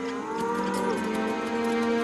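A single long, close moo from cattle on the prairie, a loud sustained bovine low that holds steady for two seconds.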